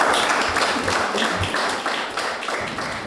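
A live audience applauds and claps at a business talk, a dense steady wash of many hands that stays loud and slowly tapers over a few seconds.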